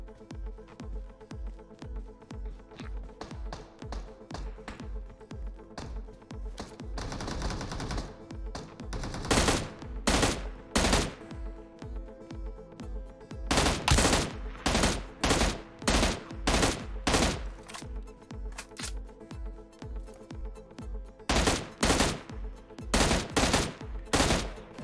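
Gunfire in PUBG Mobile: a long-range engagement with many sharp shots, first in rapid bursts and then as loud single reports spaced out, with a brief dense volley in between and no talking.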